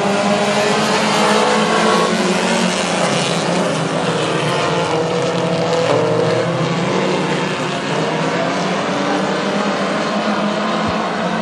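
Hornet class race cars roar together at a speedway as the green flag drops, a dense, loud, continuous engine drone of the pack accelerating out of the turn, with no talk heard.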